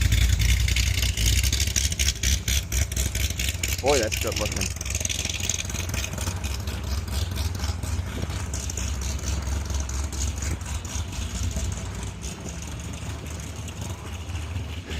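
A Corvette C6 Z06 with its exhaust in loud mode idles with a steady, deep rumble throughout, while people talk over it close by.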